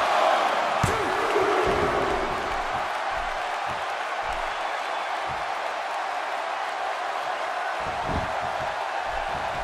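Arena crowd at a WWE 2K16 wrestling match, a steady roar of cheering and noise with occasional thuds and slams from the ring, loud and constant.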